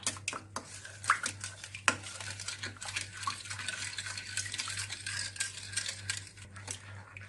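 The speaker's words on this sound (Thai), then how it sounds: "คนผสมให้เข้ากันค่ะ" Eggs and yeast being stirred into a dough mixture for Turkish poğaça, with a utensil clinking and scraping against a bowl in quick, repeated strokes, close and fairly quiet over a steady low hum.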